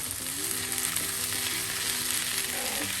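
Potato masala stir-frying in a pan with fresh coriander leaves mixed in, a steady close sizzle running throughout with soft scraping stirs, no voices.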